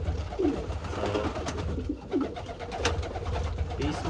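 Racing pigeons coo softly in a loft, with a few low, rounded calls repeating at intervals over faint background rustling.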